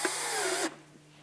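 A power drill drives screws into a gutter cover, a steady whirring run for most of a second that cuts off abruptly, then near silence with a faint click.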